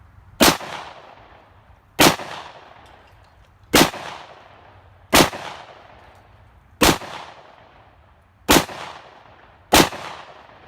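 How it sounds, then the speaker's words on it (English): Seven loud, sharp shotgun blasts fire at a steady pace about every one and a half seconds, each with a short echoing decay outdoors, with no talking. "That was some good shooting."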